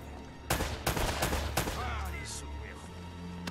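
Gunfire from Uncharted: Drake's Fortune (Nathan Drake Collection): four loud, close shots in quick succession in the first second and a half, then a softer rattling tail and low rumble.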